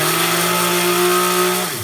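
A small kitchen blender runs at close range with black tahini ingredients inside, giving a loud steady motor whine with a constant tone that drops in pitch as the motor slows near the end.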